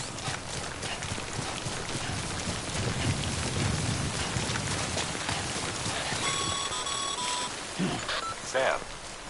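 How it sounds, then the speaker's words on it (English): Rain in a PS5 video game, a steady hiss of falling drops and patter across the whole span, with a low rumble building midway and a few electronic beeps toward the end. "Don't stay out in the rain any longer than you have to."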